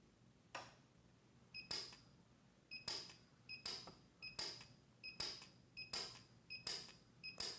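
A PUK U5 micro TIG welder set to its edge preset fuses 15-thousandths wire along an edge, giving a run of about a dozen short, sharp zaps in a steady rhythm, each with a brief high ring, close by and without speech.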